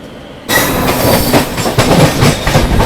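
The Gita Jayanti Express, hauled by a WAG-9H electric locomotive, rushes past close by after a sudden onset, a loud rumble with rhythmic wheel clatter over rail joints continuing to the end, no talking.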